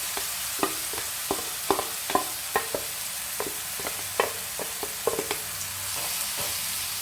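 Soybean roast masala sizzling in hot oil, a continuous hiss broken by frequent sharp clinks and scrapes of a spoon stirring against the pan, close and steady, with no talk.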